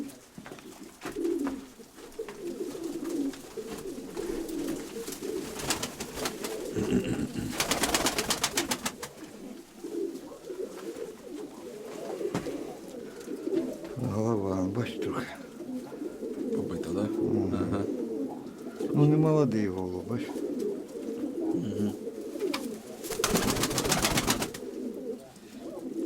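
Pigeons cooing in a holding coop, repeated low rolling coos recurring throughout, near and steady, with occasional rustles and a person speaking quietly.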